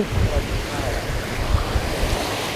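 Sea waves wash steadily against the shore beside a seaside restaurant in Pattaya, a continuous rushing surge buffeted by wind noise on the microphone, with no voices over it.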